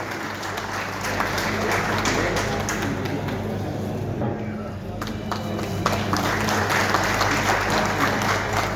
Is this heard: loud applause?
yes